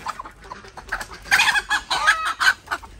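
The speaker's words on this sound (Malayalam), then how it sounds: "ഇത് ഏകദേശം ഒരു 3 വർഷത്തോളം പഴക്കമുള്ള കോഴിയാണ് നമ്മളെ വീട്ടിൽ" A three-year-old native hen clucks close by in a rapid series of short, loud calls that build in intensity.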